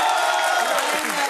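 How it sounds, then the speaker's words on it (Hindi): Audience applause in a hall, a dense wash of clapping held at steady loudness through the whole short burst. "अगर तुम रेजोनेट कर पाओ तो ताली बजाना।"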